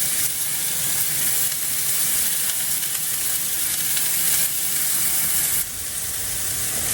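Brussels sprouts frying and caramelizing in a hot pan with a honey glaze, giving a steady, close, loud sizzle with constant hiss and crackle that runs the whole time without talk.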